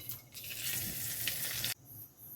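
Bay leaves, cloves, peppercorns, cardamom and cinnamon sizzle in hot oil and ghee, a steady close crackling hiss that cuts off abruptly, with no talking.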